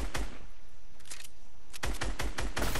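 Video-game gunfire: a short volley of shots at the start, a lull, then a quick run of loud, rapid bursts toward the end, with no talking.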